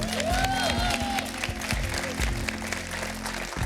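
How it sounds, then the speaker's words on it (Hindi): Studio audience applauding on the Deal or No Deal game show, a dense steady clapping wash with a low musical bed underneath and faint overlapping voices, running the full few seconds before cutting off. "उनके लिए तालियां तो मारो यार, कंजूसी नहीं दिखाई उन्होंने।"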